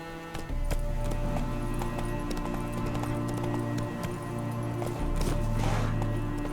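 Hooves of Roach, the horse in Witcher 3, clip-clop steadily at a run, close and loud throughout over a droning background of game music and ambience.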